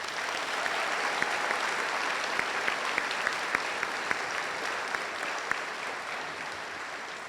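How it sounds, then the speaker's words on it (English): Sustained audience applause for a band and chorus at a school Veterans Day celebration, a dense, even wash of many hands with a few sharper claps standing out, heard alone. "So please let's give folks a round of applause."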